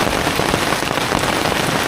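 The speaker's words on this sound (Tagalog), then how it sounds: "Problema, umuulan." Steady, dense rain falling on a surface during the day, loud and close, forming a continuous hiss and patter with no other sounds.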